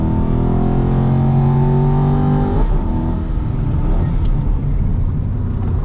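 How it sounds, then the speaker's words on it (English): An Aston Martin V8 Vantage GT4 race car, heard onboard, pulls hard in third gear with a loud rising engine drone. Partway through there is a quick gear shift, after which the engine note drops and continues at lower revs. "Just use third through here, we won't rev it out. Enjoy the torque of the big V8."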